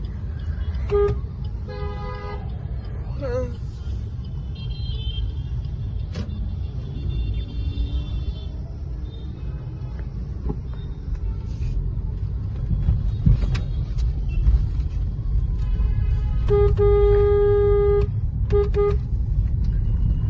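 Busy road traffic in a long queue of vehicles near Motera, with engines rumbling throughout and car horns tooting repeatedly, in short bursts and longer honks, the loudest cluster coming near the end.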